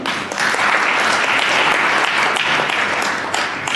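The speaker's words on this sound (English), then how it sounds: "I think they deserve a better round of applause." An audience applauds panelists at a conference session on free speech and online privacy, a dense, continuous round of clapping that stays loud and even for the whole span.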